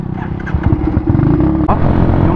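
A Rusi Macho motorcycle engine revs loudly and steadily up close, its throaty rumble rising and falling, with a brief dip partway through before roaring on.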